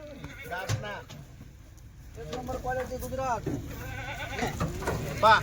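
Kathiawadi goats at a farm in Chalisgaon bleat several times in wavering, drawn-out calls, close by, mixed with a steady background murmur and people talking.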